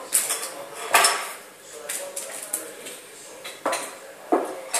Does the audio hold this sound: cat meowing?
no